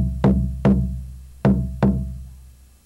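Four resonant drum strikes laid out in the I Ching water trigram pattern, two quick hits, a pause, then two more, each ringing and decaying alone with no talk.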